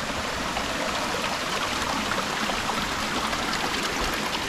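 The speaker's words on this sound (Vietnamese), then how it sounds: "Ở trên đây thì có làm một cái con suối chảy róc rách nè" A small artificial stream at a garden homestay in Da Lat gives off a steady, even rushing trickle of water that is constant and moderately loud throughout, with no talking.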